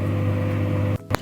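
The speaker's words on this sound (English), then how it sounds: "I just put it in the microwave for 2 minutes" Microwave oven running with a steady loud hum, then it stops abruptly, followed by a brief beep or click near the end.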